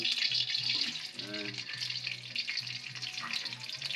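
Onions sauté in a pan with a bright, continuous sizzle and occasional stirring, close and fairly loud, while a voice talks over it at intervals.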